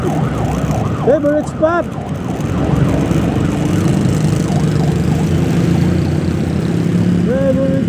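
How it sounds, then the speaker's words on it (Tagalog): An ambulance siren wails nearby, its rising and falling tone cutting through steady street traffic, with a brief spoken remark near the start. "Ambulansya na naman."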